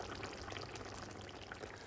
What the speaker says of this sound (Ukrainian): виливаємо наше сальмаретто